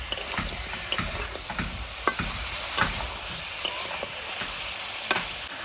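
Chicken frying in hot oil in a pan, stirred steadily with a spoon that clicks and scrapes against the metal over a continuous close sizzle; no talking.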